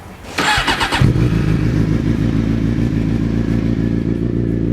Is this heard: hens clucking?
no